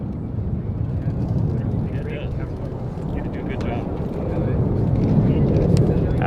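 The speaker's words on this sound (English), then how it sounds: "It is, of course, the Lancaster." Lancaster bomber flying past at an airshow, a steady, broad piston-engine drone that swells louder toward the end as the aircraft nears, with a commentator's voice talking over it.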